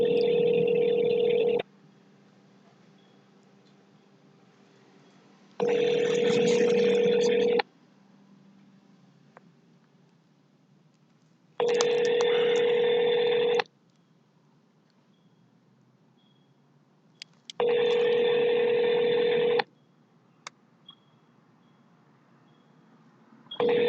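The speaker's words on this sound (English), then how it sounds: "Wait while I transfer your call." Automated phone line during a call transfer, with four loud, evenly spaced bursts of ringback tone separated by quiet gaps.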